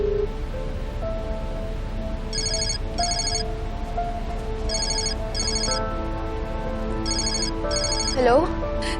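A telephone rings with an incoming call in short paired bursts, repeating several times over a bed of background music and room noise, fairly loud and clear.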